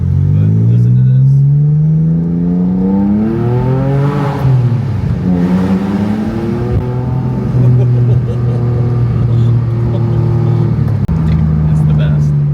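A Porsche 997 911 Carrera 4S engine revs hard through a loud, cheap aftermarket exhaust, its exhaust rising and falling in pitch through several throttle blips, loud and close.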